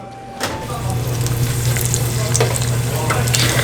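Chili hot dogs and boneless chicken skewers dropped into freshly changed deep-fryer oil at a small shop, a loud steady sizzle and bubbling that jumps up after the first half second and holds with crackles throughout.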